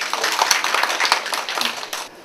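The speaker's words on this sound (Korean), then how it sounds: "박수 한번 주세요" Brief burst of applause from a lecture audience in a Korean civic training class, many hands clapping densely for about two seconds before fading out.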